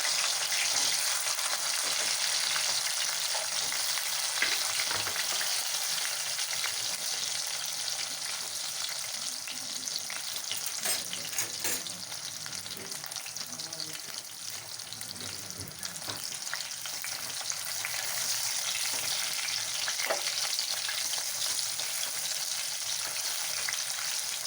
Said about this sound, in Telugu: ఇప్పుడు బాణీలో నూనె వేసుకొని తగినంత అందులోని వంకాయ ముక్కల్ని ఫ్రై